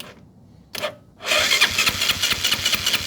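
A Kawasaki Rouser 135 motorcycle, a bike that will not start, cranks with a brief burst, pauses, then catches and runs with a loud, steady, rough engine note close by.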